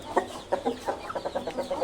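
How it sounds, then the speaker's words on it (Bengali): Colombian Light Brahma rooster and hens in a poultry setup give a string of short, moderately close clucks, irregular at first and then in a quicker patter, with no voices over them. "এই হচ্ছে আমার মোরগ প্যারেন্টসের মোরগ এটা"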